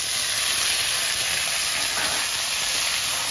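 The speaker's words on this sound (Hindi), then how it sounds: "अब टमाटर डालते हैं।" Tomatoes dropped into a pan of onions already frying, giving a loud, steady sizzle and hiss that holds evenly throughout with no talking.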